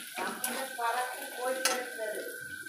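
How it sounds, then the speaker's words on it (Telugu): Onions with ginger and garlic frying in oil in a pan, a steady soft sizzle with stirring scrapes and a couple of sharper utensil clinks against the pot. "ఈ ఆయిల్లో ఆనియన్స్ అన్నిటితో ఫ్రై చేసుకోవాలి."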